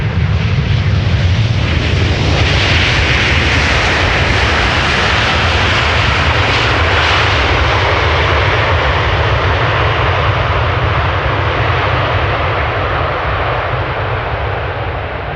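Airliners arriving at Amsterdam Schiphol Airport, including Boeing 747s, make a loud, steady roar of jet engines that stays close and powerful throughout, with a broad rushing swell building midway.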